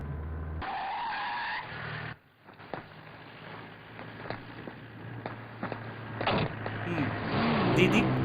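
A car brakes hard with a sharp tire skid that cuts off abruptly, followed by a door, footsteps and scattered movement, with voices talking over the scene.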